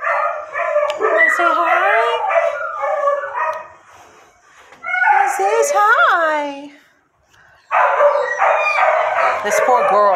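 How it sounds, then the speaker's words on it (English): Several dogs in a kennel room bark, yip and howl in long, loud, wavering bursts with brief pauses between, while a person speaks softly over the din. "This poor girl is sitting in between two dogs that do not stop barking."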